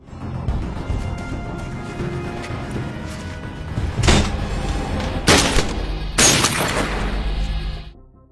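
Gunfire from soldiers in a zombie film, three sharp, loud bursts spaced about a second apart over a low rumbling background, with no talking.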